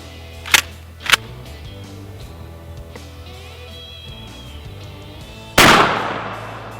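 A shotgun loaded with buckshot fires three loud blasts at a printer, two close together early and a heavier one later that rings out into a decaying roar, with quiet room noise between shots.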